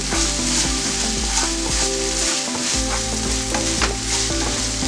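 A honey glaze sauce made with two tablespoons of honey stirred in a hot pan, a loud continuous sizzle with scraping stirring strokes close up.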